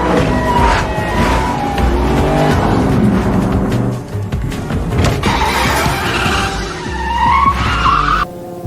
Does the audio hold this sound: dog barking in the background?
no